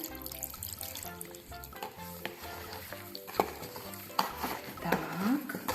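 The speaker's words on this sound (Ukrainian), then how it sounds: "трошечки візьму водички, перемішаємо його ось так." Wet sand mixed with water is stirred with a gritty, squelching churn that keeps going in uneven strokes, rising to a few sharper scrapes near the end, with no voices.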